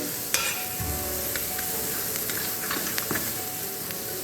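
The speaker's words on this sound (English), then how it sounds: "once the onions are sauteed, we'll add the spinach leaves into it" Onions and garlic sauté for cream of spinach soup, giving a steady close sizzle with occasional light clicks and scrapes of stirring, with no one speaking.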